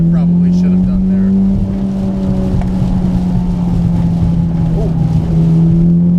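A modified Mitsubishi Evo X rally car drives hard on a wet, puddled track, its engine droning loudly and steadily from inside the cabin with a strong sustained tone and shifting revs, while a voice briefly exclaims.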